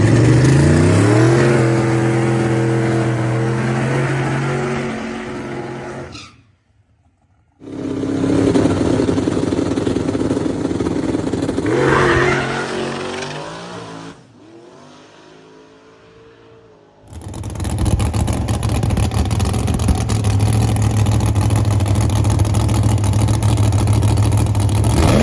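Barracuda race car on a test pass at a drag strip, its engine revving loud and close with rising gear-change sweeps, a brief gap, then another strong run and a steady drone to the end.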